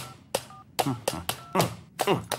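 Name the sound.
telephone dialing tones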